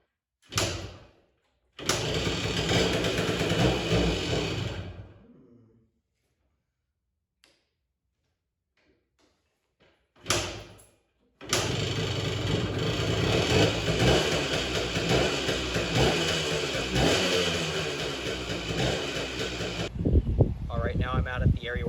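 A junkyard Yamaha DTMX175 dirt bike, freshly fitted with dual-stage reeds, is kicked over: a short burst, then the two-stroke engine runs loudly for a few seconds and dies. After a pause it is kicked again and runs steadily for about eight seconds.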